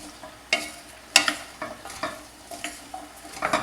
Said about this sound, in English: Starting to sizzle. You have to keep this stirred, I found.